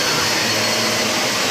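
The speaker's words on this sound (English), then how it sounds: "I may be vacuuming with one arm" Shark Rotator vacuum cleaner running steadily on a thick-pile carpet, a loud continuous motor whine with broadband airflow roar and no pauses.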